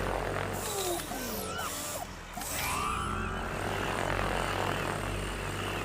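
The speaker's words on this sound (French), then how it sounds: "Mets le drone en place pour viser Hades." A WASP drone from Call of Duty Advanced Warfare flies overhead with a steady propeller-like mechanical drone, loud and continuous throughout, while whooshing sweeps pass across it.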